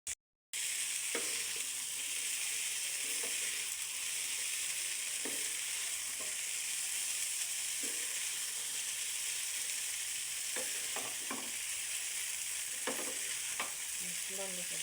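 Vegetable noodles with egg fry in a pan, giving a steady soft sizzle with scattered clicks and scrapes of stirring and no voices.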